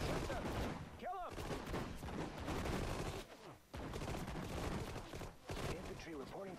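Bursts of small-arms and machine-gun fire in the World War II strategy game Sudden Strike 4, loud and nearly continuous with brief gaps, layered with battle noise and unit voice lines.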